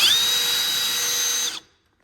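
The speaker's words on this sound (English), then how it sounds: "I got a 3/16 drill bit and it appears to work to drill these out." A power drill with a 3/16 bit drilling out rivets whines at high speed for about a second and a half, then cuts off abruptly into silence.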